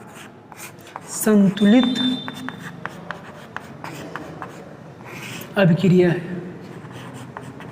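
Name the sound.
writing on a board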